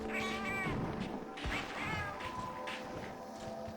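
A cat companion in the handheld game Monster Hunter Freedom Unite meows several times in short, bright calls over steady game music and effects, with no talking.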